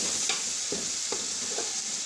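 Ginger paste fries in a pan with a steady, close sizzle, broken by a few soft scrapes and stirs from a spoon. No one speaks.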